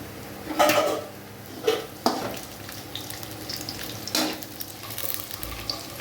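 Onions and green chillies sauté in a pan, a continuous close sizzle broken by several scraping stirs and metallic clinks of a spoon against the pan, with no speech.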